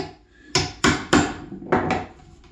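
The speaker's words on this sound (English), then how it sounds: "I can hit them with the metal hammer rather than some of my other ones" A metal hammer strikes a chisel to hog out material for a wood joint, five sharp, loud blows close by, spaced unevenly with short pauses between them.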